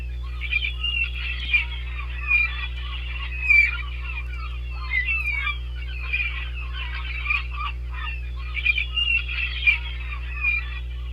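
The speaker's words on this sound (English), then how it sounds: "I just want to focus on the seagulls" Gulls call repeatedly in scattered, squawking bursts, faint and somewhat distant, over a steady low electrical hum.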